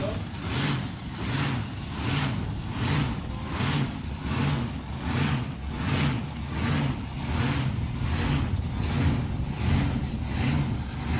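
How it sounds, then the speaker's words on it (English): Supercharged drag race car engine idling through the blower at a Wild Bunch Wars meet, a loud lumpy lope that surges and hunts in a regular rhythm, steady and close. "Love the way this car hunts like that through the blower."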